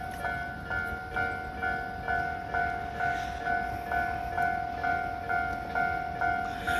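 A level crossing near Kawagoe Station on the Tobu Tojo Line rings with a steady, evenly paced two-tone warning bell while a train approaches under a continuous rumbling background.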